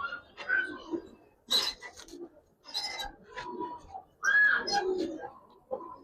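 Giribaz pigeons in a loft give soft, repeated coos with bird calls scattered over about six seconds, some bursts louder and closer than others, with faint background murmur.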